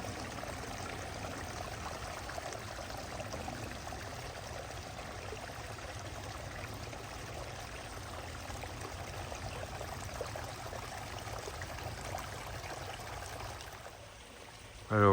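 A small waterfall flows in a Japanese maple garden in spring, giving a steady, even splashing and trickling wash that continues unbroken at moderate level before a brief dip and a closer bump at the end.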